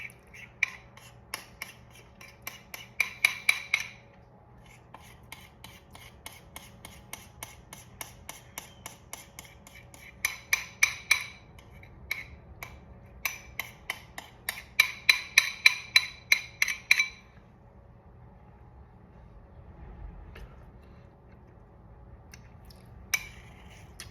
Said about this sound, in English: Now we're just gonna mix it all together.